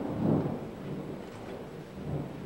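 Low rumbling thunder rolls from a distance, a soft swell that fades and returns faintly, with no voices.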